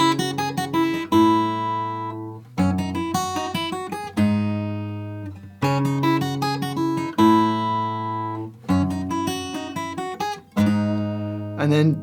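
Fingerstyle guitar plays a repeating four-bar passage from the Gustave theme of Clair Obscur: Expedition 33, plucked chords and melody notes ringing out clearly, the phrase played twice with short pauses between groups, no talking.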